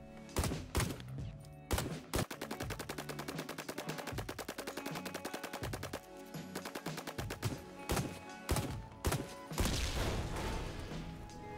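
An AUG rifle fires in Ring of Elysium, with bursts of rapid automatic shots in quick succession, then a few separate single shots, loud and sharp, with no talking.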